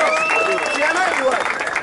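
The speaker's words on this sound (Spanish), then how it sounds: "yo quiero que todos hagan un aplauso para Wolf" Crowd applause and cheering at a freestyle rap battle final in Argentina for the tournament winner Wolf, dense and loud throughout with shouting voices mixed in.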